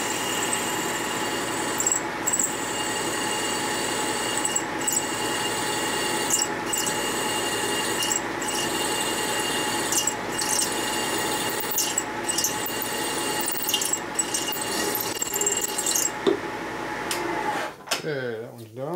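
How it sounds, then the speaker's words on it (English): A drill cuts through a part for a Harley shovelhead big-bore stroker motor in a machine shop, a steady loud machine whine broken by regular clunks, ending with the spindle winding down. "Alright, I'm going to just drill it through. And drop the RPM down a little bit."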